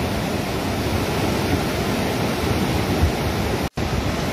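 Floodwater of a swollen river in Uttarakhand rushes past a collapsing Defence College building, a loud, steady, broadband roar that fills the whole stretch with no voices over it.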